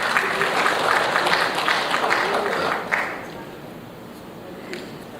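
A conference audience at an air cargo industry event applauds for about three seconds, the clapping fading quickly into quiet room tone with a few stray claps afterward.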